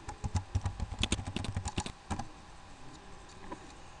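Rapid keystrokes on a computer keyboard, a dense burst of clicking for about two seconds that then thins to a few scattered taps in a quiet room.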